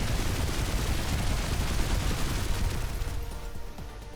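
A flak cannon fires in the space video game Star Control Origins as a dense, continuous rattle of booming shots, loud at first and thinning toward the end.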